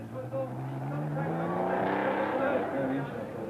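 Porsche 911 rally car at Rally Antibes 1981, engine revving and rising in pitch as it accelerates close by, with a commentator talking over the sound.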